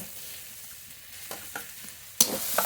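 Radish greens being stir-fried in a pan, with a low background sizzle and a few soft stirring scrapes, then a sharper, louder clatter and hiss near the end.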